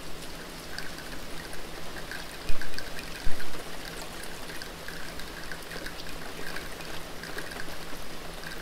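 Rainwater pouring and trickling into a glass in a video game, a steady close splashing stream with a couple of louder sloshing bursts partway through, no talking.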